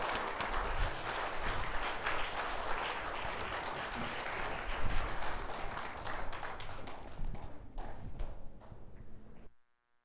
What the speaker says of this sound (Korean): 하나님 앞에 영광의 박수 올려드릴 수 있도록 부탁드리겠습니다